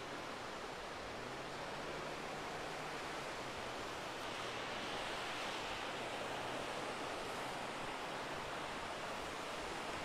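Sea waves wash onto the beach at Side, Kumköy, a continuous broad roar of surf at sunset with no clear breaks, steady and fairly soft.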